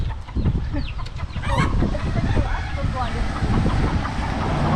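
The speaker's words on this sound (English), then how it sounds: "Gotta watch out for the chickens" Chickens cluck and call close by on a street amid a busy outdoor scene in Palolo Valley, Oahu, Hawaii, with a person talking and steady background rumble throughout.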